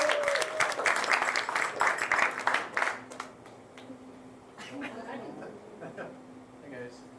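Comedy show audience applauds a performer being introduced, loud dense clapping for about three seconds that breaks off abruptly, leaving quieter room noise and a few scattered sounds.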